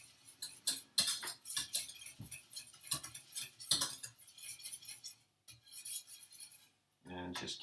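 Cream for shrimp bitterballen is stirred in a pan, producing close, bright scraping and clinking strokes of a utensil against metal in uneven bursts, with brief silent gaps near the end before the stirring resumes.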